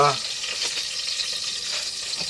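Cardamom pods frying in oil in a pan for pulao, cooked aboard a truck, giving a steady, close sizzle with light stirring scrapes throughout.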